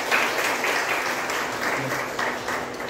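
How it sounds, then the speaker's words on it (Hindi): An audience at a school investiture ceremony breaks into dense, steady applause to welcome a student, a continuous wash of many hands clapping at even loudness. "जरा तालियों से स्वागत किया जाए वंश का।"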